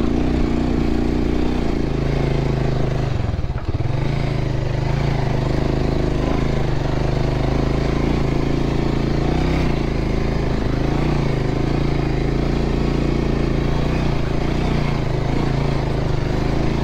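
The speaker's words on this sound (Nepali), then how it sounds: "हामीसँग यहाँ खतरा बाइक छ त आज ढुक्क तानिहाल्ने हो" A motorcycle being ridden off-road, its engine droning steadily and loud for the whole stretch, with a brief dip and rising throttle early on.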